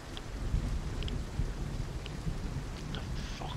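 A thunderstorm rumbles through Vigor with steady wind noise, low and broad, plus faint scattered crackles and no clear speech.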